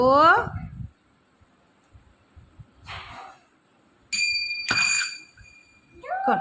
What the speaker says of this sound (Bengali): দাদু ভাই খঞ্জনি বাজাও তো